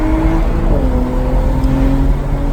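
Manual stick-shift car engine pulling hard in third gear, a loud, steady drone whose pitch sags once and then holds, heard up close from inside the car with no talking.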